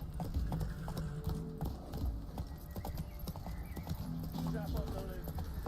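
Roach the horse galloping in The Witcher 3: Wild Hunt, a quick steady rhythm of hoofbeats close up, with a brief whinny and voices talking over the clip-clop.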